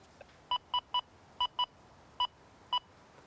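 Seven short electronic beeps from an XP Deus II metal detector in an uneven rhythm, each a pure high square tone, clear and close against a quiet background hiss.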